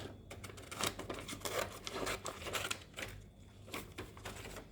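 Scissors cut along a line in a paper pop-up card for a tower mechanism, making a close series of crisp, irregular snips and paper rustles, fairly quiet and without talk.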